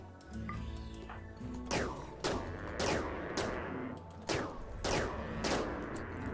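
Repeated bursts of gunfire in the RimWorld video game: several sharp, loud volleys crack out at irregular intervals, each followed by a short rattling tail, over a low steady game background.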